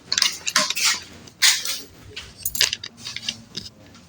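Dishes, pots and cutlery clatter and clink while being washed in a home kitchen, with repeated bursts of metal and ceramic knocks close by and no talk.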